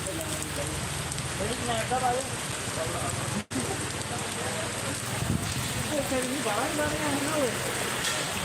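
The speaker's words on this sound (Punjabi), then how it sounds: "ਬਹੁਤ ਜ਼ਿਆਦਾ ਮੀਂਹ ਪੈ ਰਿਹਾ ਜੀ" Steady heavy rain hisses across the whole stretch, with voices talking intermittently over the downpour.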